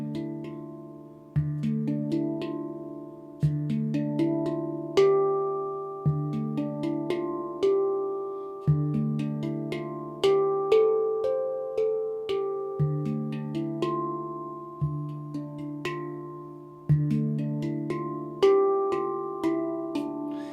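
Resonant metallic handpan tones tapped in a looping rhythmic groove pattern, a deep bass note returning regularly beneath bright, ringing higher notes; close and clear, no voices.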